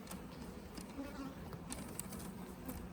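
Honey bees buzzing around a queenless beehive being combined with another ten-frame hive, a faint, steady hum of many bees with occasional closer passes, outdoors and low in level.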